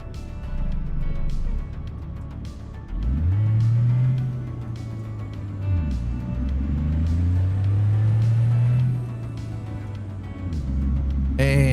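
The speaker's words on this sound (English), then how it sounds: "how much I've actually been enjoying driving this older truck" An older logging truck with a proper manual shift on a Pacific Northwest run: a deep diesel rumble that climbs in pitch through each gear, drops at every shift, and repeats over several pulls, loud and close inside the cab.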